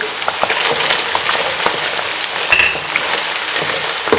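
Green chillies cut into small rounds fry with already-cooked chicken in a pan for a chicken bhaji, giving a steady, dense crackling sizzle that continues evenly throughout with no talking.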